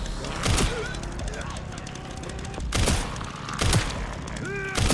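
Gunfire in the Resident Evil 9 Requiem zombie video game: a few sharp, loud shots spaced about a second or more apart, with game music and effects beneath and a player's voice exclaiming nearby.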